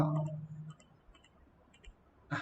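Computer mouse clicks while selecting animation frames: a few faint, sharp ticks scattered across a quiet stretch, following a brief bit of speech at the start.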